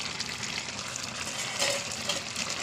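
Fish head frying in a pan with turmeric, ginger and cumin, a steady dense sizzle that holds at a close, even level throughout with a brief brighter spit partway through.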